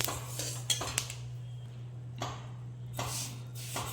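Roasted flaxseeds scraped from a pan onto a plate, with a few bursts of rattling and scraping and light metallic clinks over a low steady hum.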